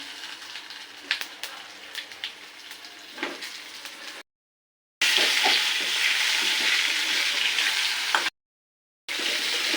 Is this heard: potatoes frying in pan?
yes